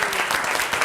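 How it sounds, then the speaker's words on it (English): A burst of audience applause for volunteers at a Harvard Extension School Jeopardy lecture event, dense clapping heard only for a moment. "A bigger round of applause for our volunteers tonight."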